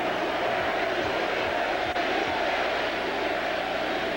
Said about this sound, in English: This crowd tonight, as Barry hits the first, has simply been unbelievable. Deafening.